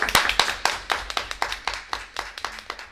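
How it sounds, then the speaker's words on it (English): A small group claps steadily at a board of education reorganization meeting, with quick, close, even hand claps filling the room and no voices over them. "Can we give them a round of applause?"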